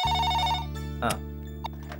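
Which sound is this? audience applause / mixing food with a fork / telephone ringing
telephone ringing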